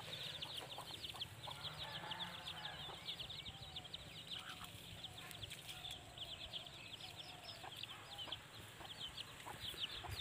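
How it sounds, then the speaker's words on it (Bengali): Backyard chickens at a rural Bengali home cluck and chatter steadily, with bright short calls repeating over a constant outdoor hum and no voices. "এই দেখো আমাদের মুরগিগুলো।"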